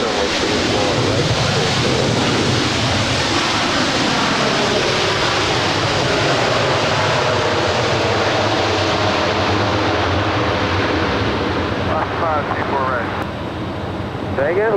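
A Qatar Airways Airbus A350 heavy jet roars steadily while landing on runway 24 right at Los Angeles International Airport, a loud, continuous broadband rumble that stays strong throughout with no voices.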